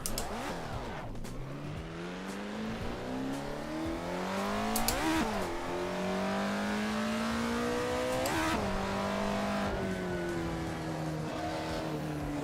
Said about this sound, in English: This car sounds fast, but we're going at walking speed.